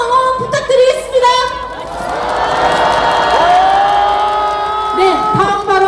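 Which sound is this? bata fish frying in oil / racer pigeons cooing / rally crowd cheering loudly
rally crowd cheering loudly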